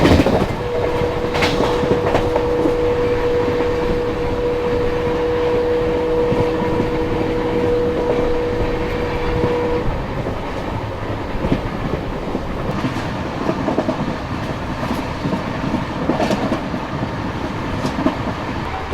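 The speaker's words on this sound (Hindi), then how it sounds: "ट्रेन लगातार हॉकिंग के साथ इन रेतीले टीलों के बीच चल रही थी।" The Bikaner Duronto express runs through the sand dunes of the Thar Desert with a continuous rumbling roll and clickety-clack of wheels over rail joints. A long steady horn blast sounds over the first half, and the train stays loud and close throughout.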